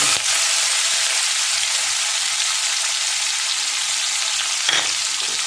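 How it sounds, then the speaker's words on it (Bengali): Finely chopped onion fries in hot oil with a dense, even sizzle that runs unbroken, with one brief clatter near the end. "পেঁয়াজটা 1 মিনিট একটু ভেজে নেব"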